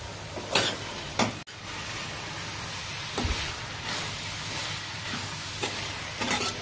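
Cowpea pod stir-fry being stirred in a pan after chopped curry leaves and coriander go in, a steady hiss of frying with several distinct scraping stir strokes and a sharp knock, close and alone.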